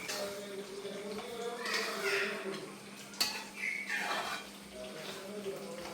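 A spoon stirs fenugreek seeds and asafoetida powder in a pan for a lime pickle, giving soft metallic scrapes and clinks close by, with one sharp knock midway.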